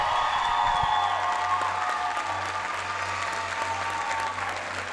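Sustained audience applause at a bodybuilding competition, a women's bikini adaptive event, steady and fairly loud clapping from a crowd for a competitor on stage, with a low hum beneath and no talk over it.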